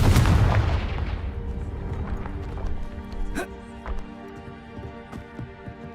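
Confringo, an explosive spell, is cast in the video game Hogwarts Legacy, opening with a loud booming blast that decays over a second, followed by scattered thuds, clatters and faint crackling debris.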